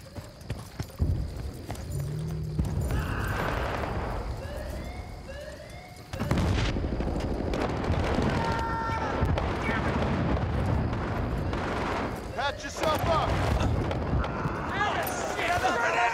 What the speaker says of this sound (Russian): Заряд установлен! Взрываю!